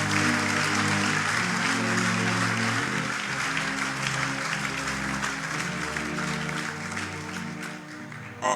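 A church congregation at a prophetic meeting claps steadily in praise of the Lord, the applause continuous and fairly full over sustained music, fading a little toward the end.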